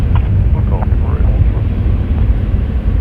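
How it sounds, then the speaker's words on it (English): Small aircraft engines roaring at Toronto Pearson airport, a steady, loud, close droning rumble that fills the whole moment with no break. "we can hear those engines. The little planes always have the mighty roar."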